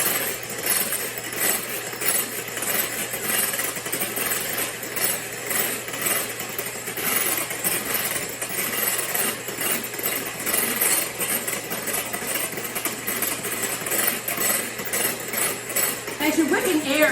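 An electric mixer whips egg whites toward stiff peaks in a kitchen, its continuous buzzing whir steady and close throughout, with faint clinks against the bowl.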